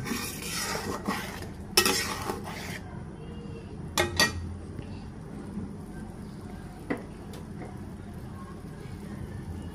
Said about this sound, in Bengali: এখন এগুলোকে ভালো করে নাড়াচাড়া করে দেব